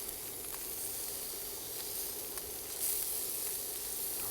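Firm tofu sizzling steadily in a hot pan, a constant bright hiss with faint pops and a brief louder flare as pieces are flipped with tongs.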